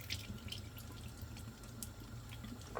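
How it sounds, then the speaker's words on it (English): Water pours out of a pot of butter beans into a sink, a faint, short splashing trickle with a few drips. "So there's water in it, so I'm gonna pour it out."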